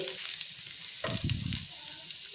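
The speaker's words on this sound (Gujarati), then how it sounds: "ઝીણું સમારેલું લસણ આપણે અહીંયા ઉમેરી લીધું છે" Finely chopped garlic sizzles and crackles in butter in a hot pan, swelling louder midway with a brief stir, no voices.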